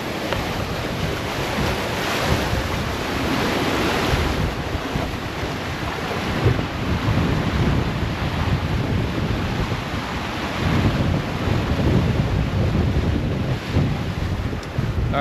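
Ocean waves at sea, heard from a boat, give a continuous loud wash of surging water, with heavy wind buffeting the microphone throughout and no voices.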